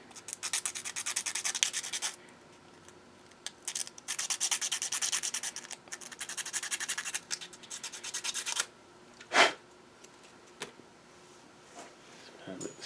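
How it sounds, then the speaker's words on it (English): Sandpaper rubbing a Rokr marble run kit piece (LG504) to improve its fit, heard as several bursts of dry scratchy friction close up, separated by brief pauses. "May have to sand it a little bit."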